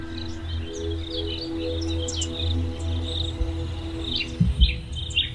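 A cricket chirps continuously in the background of a natural setting, a steady high trill with occasional bird-like calls overhead and a few soft bumps near the end.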